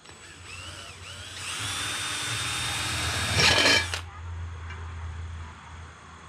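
A power drill whines steadily, rising into a harsh grinding burst as it bites through a plastic syringe, then cuts off, leaving a low hum.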